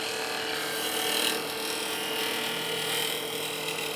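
A woodturning lathe cuts into a spinning figured maple box, giving a steady close scraping hiss that swells briefly and then settles, with no voices.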